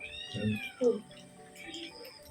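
A cat meows a couple of times up close in a home while people chat nearby, its cries rising over the voices.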